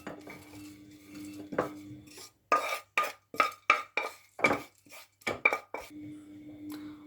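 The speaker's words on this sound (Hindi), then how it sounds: "अब मैं इसको छोटी सी प्लेट में डालने लगी हूँ।" Makhana roasted in desi ghee is scooped from a pan onto a small plate, a rhythmic series of about ten sharp metallic scrapes and clinks of a spoon against cookware, close and distinct, without talking.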